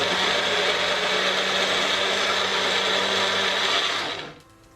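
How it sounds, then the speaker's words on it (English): Blender whirring steadily at full power for about four seconds, blending a runny apple cider vinegar mixture for vegan camembert, then cutting off and winding down near the end. "I'm going to quickly blend this now."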